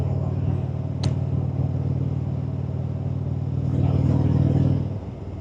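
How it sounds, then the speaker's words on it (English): A steady low engine rumble with a deep exhaust note from an Indian motorcycle with Rush Racing slip-on exhausts, holding even and loud, swelling briefly near the end before dropping off. "I feel like the exhaust is not the loud rumble I would like to hear going down the road"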